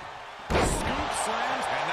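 A scoop slam lands in the WWE 2K22 wrestling game with one heavy body-to-mat thud, followed by crowd noise and excited commentary.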